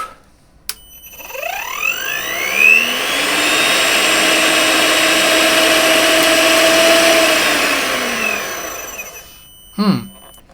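A hand blender driven by a variable speed drive at full speed gives a loud, steady electric motor whine that ramps up, holds, and winds back down, ending in a short clatter.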